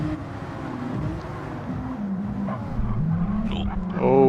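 Race car engines drone and rise as a pack jostles for slipstream at Monza in a sim racing game, a steady close roar with shifting pitch and a brief squeal near the end, under a commentator's voice.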